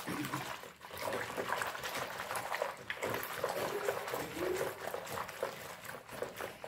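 Powdered soap is stirred into a container of water, producing a continuous sloshing, bubbling churn with faint splashes throughout, moderately close.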